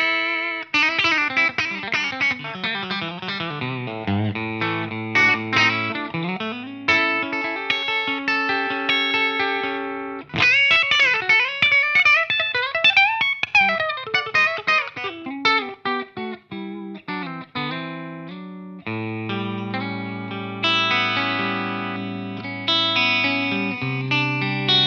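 A PRS NF53 electric guitar played through distortion and effects, loud and continuous, with ringing sustained chords and faster picked runs, a brief break near the middle, and no talking.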